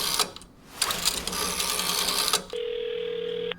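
A telephone in the horror video game WhiteNight rings loudly and harshly. It is followed by a steady, sustained electronic phone tone that cuts off abruptly, with no voices.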